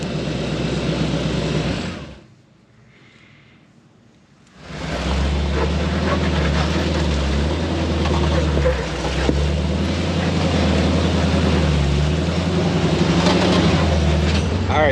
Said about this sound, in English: Hey, Mike, fire it up.